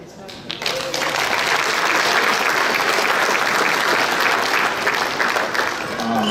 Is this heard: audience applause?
yes